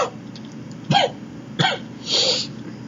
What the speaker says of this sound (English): I noticed that you're coughing.